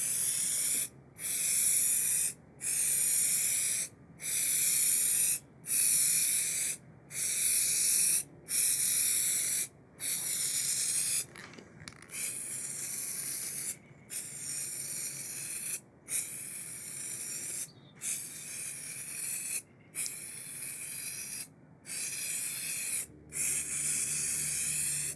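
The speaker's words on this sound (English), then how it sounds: "let's go do some spraying" A spray can of Lac R' Shot lacquer finish hisses in a long series of short even bursts with brief pauses between, close by, steady and fairly loud, spot-repairing a guitar finish.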